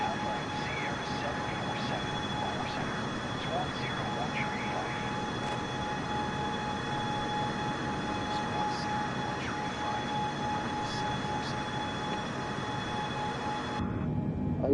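A Boeing 747 airliner gives a steady, loud engine roar that drones on without a break, with a faint rumble underneath. The noise ends abruptly near the close.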